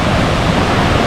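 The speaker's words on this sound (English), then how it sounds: "Another shot here at the falls." Kuang Si waterfall in Laos roars close by as a dense, steady wash of falling water, loud and unbroken with no voices.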